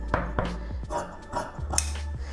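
Scissors cutting through lining cloth for a chudidhar: a run of crisp snips and metallic clicks in an uneven rhythm, close and moderately loud, with no talk.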